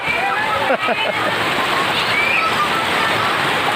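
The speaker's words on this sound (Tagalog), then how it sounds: "Ayan ang unang patak ng ulan oh." Rain begins to fall while children splash and play outdoors, a steady wash of water and splashing that fills the background, with someone talking over it.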